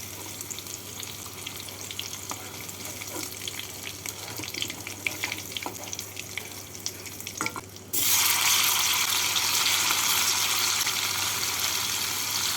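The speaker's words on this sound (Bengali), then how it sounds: "বাকি পনিরগুলোকেও একইভাবে ভেজে নিচ্ছি" Paneer pieces fry in oil in a pan, giving a steady crackling sizzle with light scrapes for about eight seconds, then a sudden louder, brighter rush of frying noise holds to the end.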